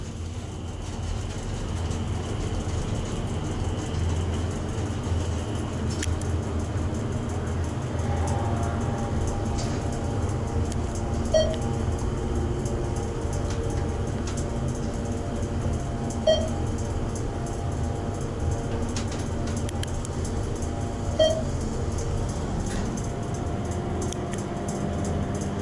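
ThyssenKrupp hydraulic elevator at 1500 Rio Grande in Austin, TX, with its motor running as a steady low rumble and hum, broken by three faint chimes spaced about five seconds apart.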